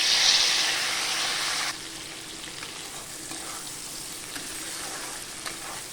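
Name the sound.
frying chopped onion and tomato with garlic paste and cumin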